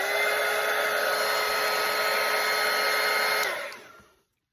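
A hair dryer blows steadily and loudly close by, drying wet watercolor paint on a beginner Christmas manger painting, then switches off and falls silent near the end.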